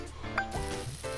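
Food sizzles on a grill in the video game Cooking Star Restaurant, a short burst of hissing crackle over a faint synthetic game tone, brief and close.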